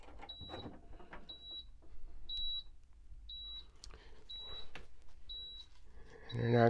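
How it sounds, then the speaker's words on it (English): A thin electronic beep from a Frigidaire dehumidifier with its bucket removed sounds at regular one-second intervals, faint behind handling noises and a person speaking nearby. "And it actually beeps"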